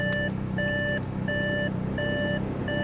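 A 2017 Volvo XC90's warning chime beeps repeatedly in an even rhythm, loud and close, over a low idling engine hum.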